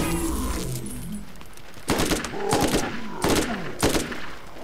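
Gunfire crackles in the video game Borderlands, with several rapid bursts of shots and a few loud, echoing blasts in quick succession over a constant background rumble.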